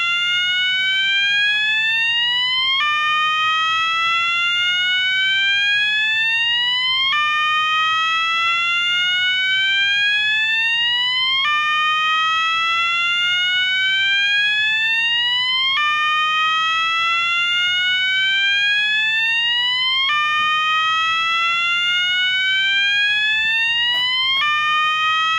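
A multi-tone fire alarm sounding loud and close, repeating rising sweeping whoops roughly every four seconds in a steady continuous cycle with no one talking over it.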